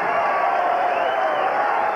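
A boxing crowd roars and cheers for homegrown Tasmanian boxer Guy Belbin at a 1988 75 kg final, a loud, steady wash of voices sustained throughout.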